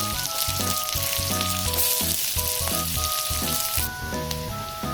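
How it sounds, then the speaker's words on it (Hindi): Onion frying in a pan for homemade Gubi saag, a dense close sizzle and crackle that stays loud throughout, with background music playing over it and no speech. "देखो प्याज भाजी हो गला"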